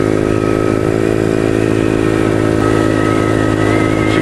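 A pit bike engine running loud and close while riding on a dirt road, a buzzy steady drone with rough mechanical clatter and no pauses, alone without speech.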